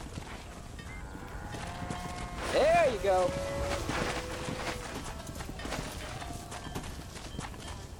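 Horse hooves clip-clop at a steady walking pace in a Red Dead Redemption ranch scene, moderately near and fairly quiet, running under a character's brief spoken line.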